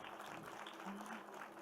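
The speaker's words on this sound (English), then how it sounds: "We can definitely clap a little louder." Faint, brief clapping from an audience at a children's literature award ceremony, a soft, scattered patter of hands heard from a distance for under two seconds.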